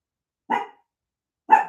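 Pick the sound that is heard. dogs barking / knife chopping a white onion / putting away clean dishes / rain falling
dogs barking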